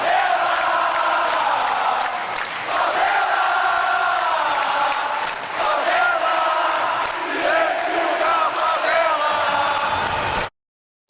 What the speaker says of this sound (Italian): non privi di sfottò come questo coro da parte del Flu verso i tifosi del Fla